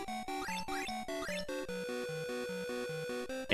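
Chiptune music from a Frogger-style arcade game on an Atari home computer. A bouncy, looping tune of short square-wave notes moves over a steady stepping bass line and plays continuously at moderate volume.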